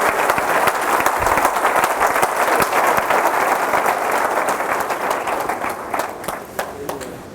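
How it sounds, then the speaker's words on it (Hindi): Loud, sustained applause and clapping from a church congregation during a Friday sermon, a dense wash of many hands filling the space with scattered sharp claps, steady throughout. "जोरदार तालियां से"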